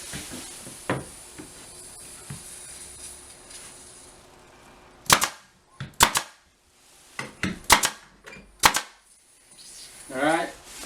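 Brad nailer firing lightweight 1.25 inch brads into braces while installing a bookshelf door, several sharp close snaps in quick bursts and pairs, with quieter handling noise between shots.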